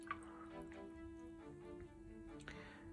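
A paintbrush swished and rinsed in water, soft drips and gentle sloshing close by, quiet, with faint background hum.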